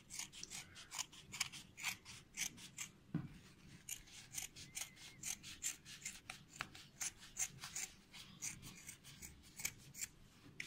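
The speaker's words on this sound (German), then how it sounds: "Klappen wir auf. Schneiden wir wieder hier." Scissors cutting trouser fabric to shorten a pair of pants, a quiet, close series of regular crisp snips and rasping blade strokes repeating steadily throughout.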